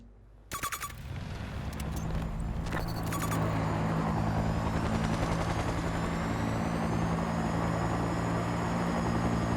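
Steady helicopter rotor drone in the video game Battlefield, with low thumping hum, preceded by a few sharp gunshot-like bursts at the start, loud and continuous.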